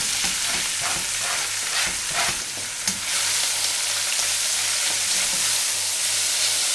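Fresh fenugreek leaves drop into hot oil with cumin in a pan, bursting into a loud, close hiss that settles into a steady, strong sizzle with a few stirring scrapes.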